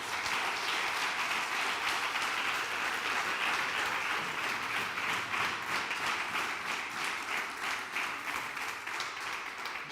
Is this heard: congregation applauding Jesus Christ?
yes